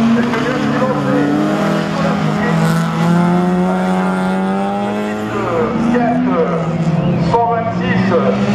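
Rally car on a slalom course at Le Neubourg, engine note rising and falling steadily under continuous excited commentary throughout.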